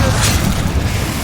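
A Confringo fire spell in Hogwarts Legacy erupts in a short, dense, booming blast that holds loud throughout.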